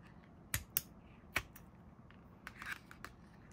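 Scissors snip through elastic cording on a handmade micro notes binder: two quick close cuts, a pause, then a third crisp snip, followed by faint handling rustles.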